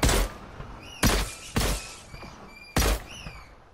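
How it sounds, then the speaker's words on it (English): Sharp impact hits from the video game Desert Zone Wars: four loud, punchy thuds with bright ringing tails, spaced irregularly, standing alone with no talk. "Oh, it did the hit marker and everything."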